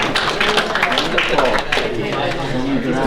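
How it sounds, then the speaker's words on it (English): Applause and cheering for a raffle winner at a board game publisher panel at a convention, a steady crowd wash of clapping mixed with scattered voices throughout. "Round of applause for the winner."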